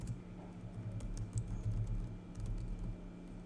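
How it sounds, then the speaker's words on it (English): Soft, steady keyboard typing with quick irregular key clicks over a low background hum, continuing for a few seconds with no voices. "I am using the keyboard."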